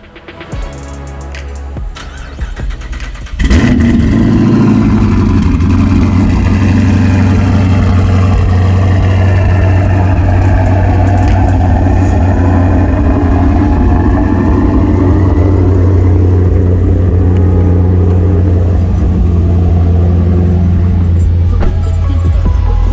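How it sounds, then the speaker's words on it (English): A Dodge Charger widebody fires up from cold after a brief quiet crank, then settles into a loud, steady, deep rumbling idle close by that holds for the rest of the stretch. "We'll get a cold start,"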